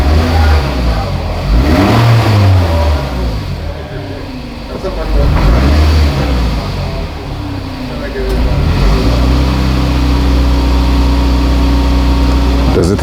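A 2006 Toyota RAV4 engine running while driving, a loud steady mid-pitched hum that rises and falls with acceleration, heard close from inside the car.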